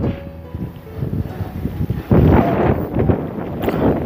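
Wind blows across open salt evaporation ponds and buffets the microphone. It makes a rough, gusty rumble that strengthens partway through, with no clear talk.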